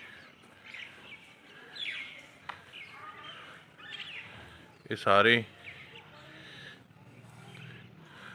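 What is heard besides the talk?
birds chirping while feeding in the morning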